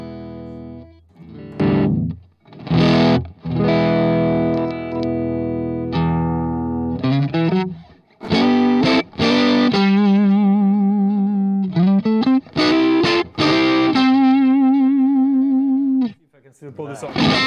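Electric guitar played through an AMP1 Iridium Edition amp with the boost engaged, giving loud, distorted sustained chords and picked notes that start and stop in bursts, with brief gaps of silence between phrases.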